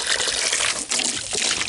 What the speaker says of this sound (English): Or at least get water running in it.